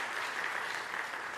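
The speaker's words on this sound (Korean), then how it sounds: "잠깐만 일어나시면 저희가 박수로 환영하도록 하겠습니다." A Sunday-service church congregation claps to welcome first-time visitors, an even, continuous ripple of many hands at moderate volume across the whole stretch.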